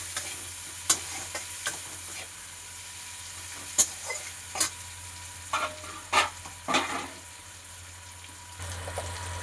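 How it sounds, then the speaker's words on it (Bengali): Onions sizzle in hot oil in a home kitchen pan for a fish curry, a soft steady frying hiss broken by several sharp clinks and scrapes of a spoon stirring, with no talking. "পেঁয়াজটা লাল লাল করে ভাজা হয়ে গেলে তারপর আমি মশলাগুলো দেব।"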